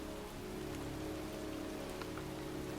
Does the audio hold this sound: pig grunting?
no